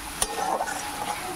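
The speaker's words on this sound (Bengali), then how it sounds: "এখন নেড়ে নিচ্ছি।" Spices and turmeric stirred in a hot pan, a quick scrape of the spatula followed by soft sizzling frying sounds close up, brief and with no voices.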